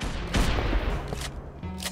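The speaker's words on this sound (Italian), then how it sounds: "Grandissima esplosione." A large explosion in Minecraft bursts out as a loud, close, crackling roar, with several rough blasts in quick succession over about two seconds.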